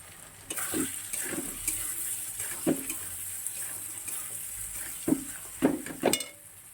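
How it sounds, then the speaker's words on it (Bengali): A little water is poured into a pan of cooking vegetarian curry with turmeric, producing a steady soft sizzle with a few louder splashes and stirring clinks near the end, with no talking. "সামান্য একটু জল দিয়ে দিচ্ছি।"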